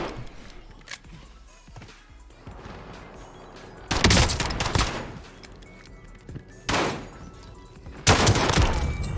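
Bursts of automatic gunfire from a Call of Duty Warzone match, loud close volleys around four, seven and eight seconds over quieter background shooting and game ambience.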